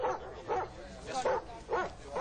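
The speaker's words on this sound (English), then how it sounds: "4 other police dogs gave Clodo what's described as a 21 bark salute" Several police dogs bark together in a 21-bark salute at a ceremony for a police dog, with four rhythmic bursts of barking spaced roughly half a second apart at moderate volume.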